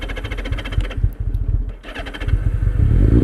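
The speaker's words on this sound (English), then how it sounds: "Why is her idle so low? Why does she idle so low?" A 2003 Kawasaki ZR7S motorcycle engine runs close by with an uneven, low idle, its beat dipping and surging as if struggling to stay running, then picking back up louder toward the end.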